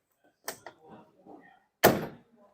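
Hard doors on a 2023 Kawasaki Mule Pro-FXT side-by-side being handled: two quick latch clicks followed by a louder, solid door thunk, close by, with quiet handling noises between.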